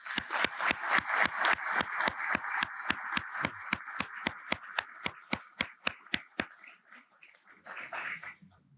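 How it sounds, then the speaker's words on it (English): Applause for faculty at a National Security Symposium comes across as a steady run of loud, evenly spaced claps, about three per second, that carry on for over six seconds, thin out and fade near the end. "I'd ask you to join me in a round of applause for their efforts"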